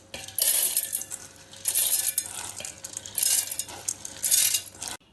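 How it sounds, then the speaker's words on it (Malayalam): Soaked jowar millet and urad dal tumble into a mixer jar in a home kitchen, making a few bursts of gritty rattling and clattering with short pauses between them. "ഇതിനി അരച്ചെടുക്കാൻ വേണ്ടി മിക്സിയുടെ ജാറിലേക്ക് ഇടാം"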